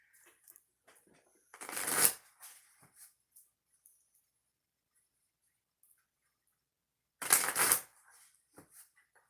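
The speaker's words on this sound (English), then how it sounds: "while I shuffle your cards, and then we'll get started" Two quick bursts of tarot cards being riffled and shuffled, separated by a long quiet gap with faint scattered taps.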